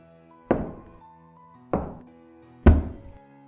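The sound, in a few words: knock on a door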